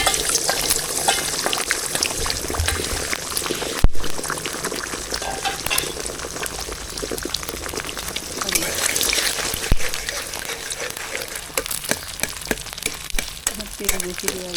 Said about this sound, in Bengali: তেল গরম হয়ে গেছে, এবার মা ফেটানো ডিমগুলো ঢেলে দেবে এর ভিতরে